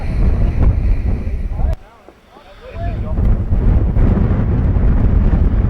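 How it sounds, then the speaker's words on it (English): Wind buffets the microphone at an outdoor baseball game, a loud low rumble that drops into a short lull before roaring back, with faint voices underneath. "Wind blowing in"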